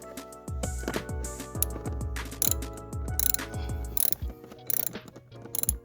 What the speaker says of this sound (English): That's what you need to unscrew to open up the cabin filter.